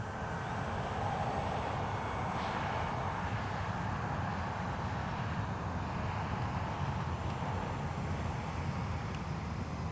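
An X-Fly Spitfire warbird model airplane comes in to land on rough grass, its propeller motor giving a steady distant drone with a faint high whine throughout.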